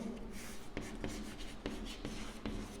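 Pen or marker writing out numbers in words during a class 5 mathematics lesson, a steady run of soft scratchy strokes with small taps, close and fairly quiet, with no talking.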